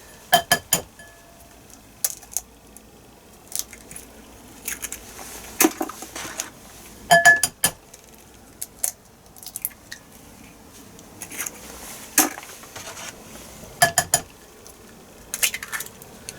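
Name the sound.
cracking eggs for a Salter XL Duo omelette maker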